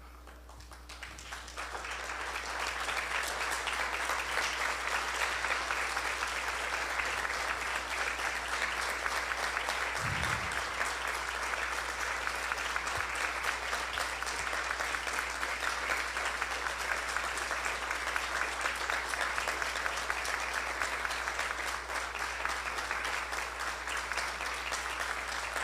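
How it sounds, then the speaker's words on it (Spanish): A standing audience at an archaeology colloquium tribute gives long, sustained applause, a dense even roar of clapping that swells in after a quiet start and holds steady throughout, with a brief low thump midway. "voy a pedir al público levantarse un ratito y rendirle muchos aplausos a él"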